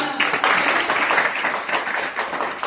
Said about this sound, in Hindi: बहुत सुंदर तालियां